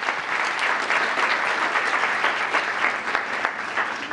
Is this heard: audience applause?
yes